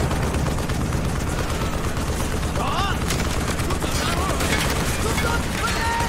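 Machine gun fire rattles through a Call of Duty Black Ops firefight, a dense continuous fusillade of gunshots layered with battle noise and shouting voices, loud and unbroken throughout.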